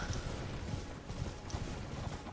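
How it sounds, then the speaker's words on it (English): Horse hooves clip-clopping steadily at a riding pace in the video game Elden Ring, a faint, continuous patter of hoofbeats with no talk over it. "On the horse again."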